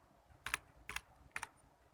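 Computer keyboard typing while entering spreadsheet code, three short separate bursts of crisp nearby key clicks spaced about half a second apart, with no talking.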